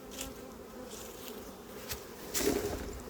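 Honeybee swarm buzzing close by, a continuous droning hum with individual bees flying past now and then, swelling briefly louder near the end, with no talk over it.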